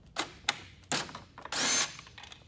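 A power drill removes the body panel screws on a Can-Am Spyder RT, several short whirring bursts followed by one longer spin, close and clear in a quiet space.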